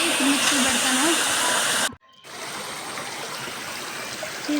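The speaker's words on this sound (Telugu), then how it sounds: "ఇదేనండి వాటర్ ఫాల్స్." Gumma waterfall roars as a steady broadband rush of falling water, loud and close, briefly cut out once before resuming, with a voice speaking over it.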